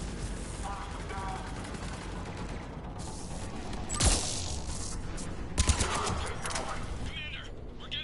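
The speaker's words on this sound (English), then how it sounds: "Commander, we're getting a lot of mortar fire" Mortar fire in the Mass Effect 3 video game: heavy booming impacts and cracks burst over a dense, constant battle din, with voices speaking.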